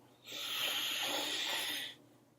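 Close, steady nasal sniffing of a real leather dopp kit, one long breathy inhale of about two seconds with no voices.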